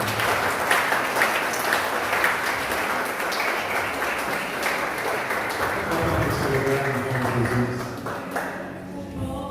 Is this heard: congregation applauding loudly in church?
yes